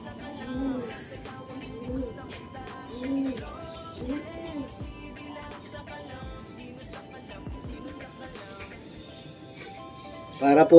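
Racing pigeons coo at the loft in soft, repeated rolling notes under steady background noise, with a sharp clatter near the end.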